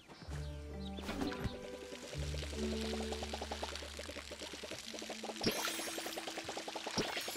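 Watering can pouring water over crops in Palia, a steady trickling stream with gurgles heard close, set against tonal game music.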